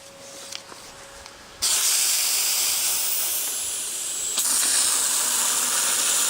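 Cleaner sprays onto trailer wheels in two long, loud hissing bursts, the first starting after a quiet moment and the second following a brief break, close up and with no talking.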